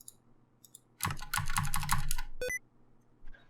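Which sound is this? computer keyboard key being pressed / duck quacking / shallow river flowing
computer keyboard key being pressed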